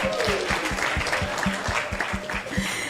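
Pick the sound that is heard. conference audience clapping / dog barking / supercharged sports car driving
conference audience clapping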